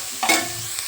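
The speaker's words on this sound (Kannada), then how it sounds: "ಕ್ಯಾರೆಟನ್ನು ಒಂದು ಸ್ವಲ್ಪ ಫ್ರೈ ಆಗೋವರೆಗೂ ಫ್ರೈ ಮಾಡ್ಕೊಳ್ಳಿ" A brief stir of grated carrot frying with onion in a pan for poha upma, a quick scrape and soft sizzle up close, lasting under a second with no voices.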